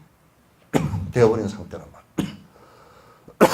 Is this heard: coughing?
yes